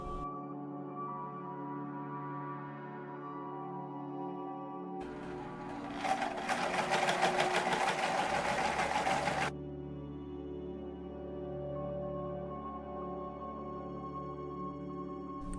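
A sewing machine stitching layered ribbon embroidery onto a mage robe costume, running in one steady mechanical burst of a few seconds over a constant background hum, then stopping.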